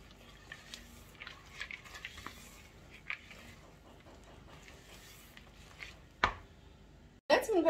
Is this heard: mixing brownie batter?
yes